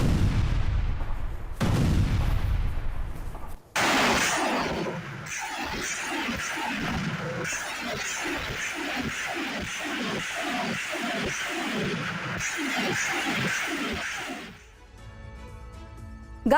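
Russian MLRS rocket artillery fires in a rapid salvo, a long rhythmic string of roughly a dozen whooshing launches following a heavy blast, loud and outdoors, ending in quieter rumbling.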